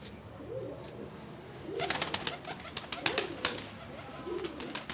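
Soft, low cooing from a pigeon repeats several times, mixed with fluttery clicks and scratchy rustling close by.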